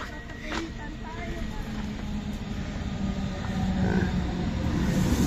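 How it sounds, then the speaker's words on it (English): Train pulling into a station, its low rumble of wheels and cars building steadily louder over about five seconds, with people chatting nearby throughout. "The train is coming, guys."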